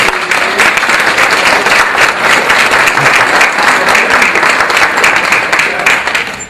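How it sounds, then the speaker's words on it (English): A room full of people applauds standing Ruby 2 rank members at a Game Loot Network meeting, sustained dense clapping, loud and close, continuing steadily without talk. "please stand and get them a round of applause"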